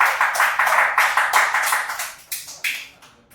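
Steady clapping at a game-tournament broadcast for a Shelly knockout, a close run of about ten sharp claps in an even rhythm that slows and fades toward the end, with no talking.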